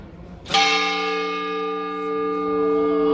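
A large bell in the Seville cathedral's bell tower strikes once, loud and close, then hums on with a rich sustained ring of layered overtones that slowly swells and fades without other sound.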